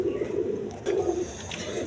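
Pigeons coo at close range, including a pair of fill bag pigeons among colored breeds, with several low rolling coos in sequence over a quiet background.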